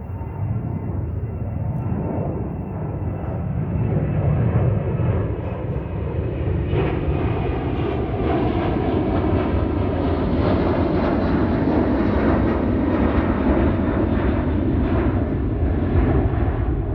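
Airplanes pass overhead in a loud, steady, broadband engine roar that holds constant throughout with no pauses.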